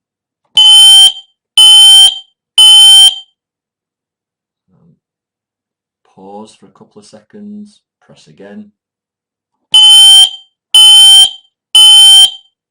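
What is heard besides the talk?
Careium i10 smoke detector alarm test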